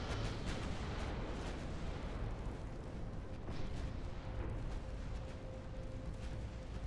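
Battleship guns fire in the naval game Ultimate Admiral Dreadnoughts, a quiet, muffled run of booming shots and rumbling bursts repeating through the clip with no talk.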